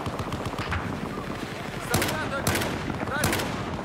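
Bursts of automatic gunfire in the video game Battlefield 4, several loud sharp volleys over a constant dense battlefield din, with someone talking excitedly through it.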